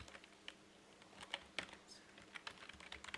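Text is typed on a computer keyboard while setting up a Facebook page: soft, irregular key clicks with occasional sharper taps, close but quiet, with no talking.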